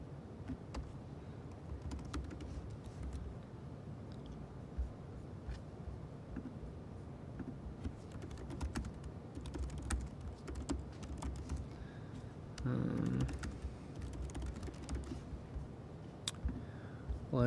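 Typing on a computer keyboard: soft, scattered key clicks in uneven runs over a long stretch, with a brief denser burst near the end and no talking.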